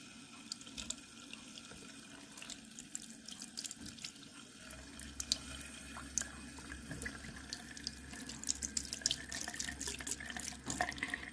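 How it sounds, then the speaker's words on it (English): Tap water runs steadily into a salon sink while hair is rinsed, a soft continuous stream with small splashes and drips close by, no one speaking. "the first thing I'm going to do is just rinse your hair for you"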